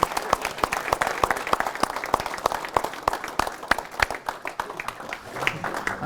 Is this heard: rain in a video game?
no